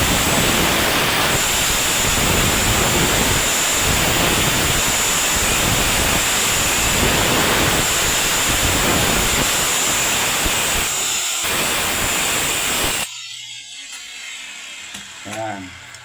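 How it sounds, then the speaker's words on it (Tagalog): An angle grinder fitted with a cutting disc cuts metal while shaping a flat grille corner, giving a loud, steady, sustained whine and hiss that runs nearly thirteen seconds before stopping abruptly, followed by quieter handling noises. "Cutting disc lang po ang ginagamit ko para lumabas yung kanto niya."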